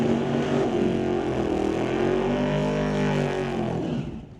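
A Ford Model A drag car at Mission Raceway Park roars loudly and steadily at close range for about four seconds, with a rising engine tone, before the noise drops away at the end.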